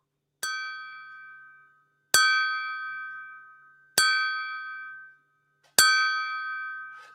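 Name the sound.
clinking a high quality glass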